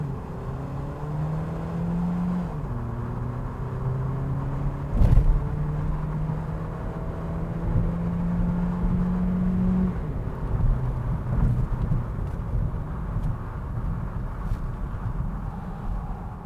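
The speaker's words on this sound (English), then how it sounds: "Now let me show you how fast new Niro Hybrid can be." A 2020 Kia Niro Hybrid hatchback with a 6-speed dual-clutch transmission and front-wheel drive accelerates hard, its engine drone climbing in pitch with distinct gear changes and a brief thump along the way, heard steadily from inside.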